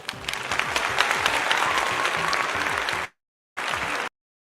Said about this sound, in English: with a round of applause, let's welcome Mr. Frank Amwakumbafo to the stage